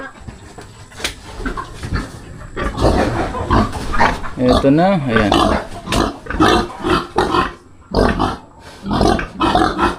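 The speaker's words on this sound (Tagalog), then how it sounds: "Tingnan muna natin yung baboy." A pig grunts and snorts close by on a rural homestead in the Philippines, with short bursts of grunting mixed among people talking over it throughout.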